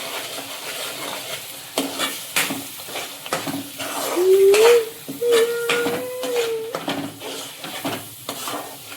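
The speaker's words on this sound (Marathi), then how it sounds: "तेल गरम झाल्यानंतर हा मसाला टाकायचा" Spice masala for methi chicken sukka fries in hot oil and is stirred. A steady sizzle runs under repeated scraping spatula strokes, and a brief wavering whistle-like tone rises midway.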